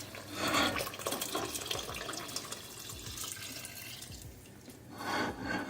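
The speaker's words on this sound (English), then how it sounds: "And I think add 4 cups of water." Tap water runs into a pot of fall soup with roasted nuts, mushrooms and crème fraîche, a steady splashing pour that swells at the start and again near the end, with no talking.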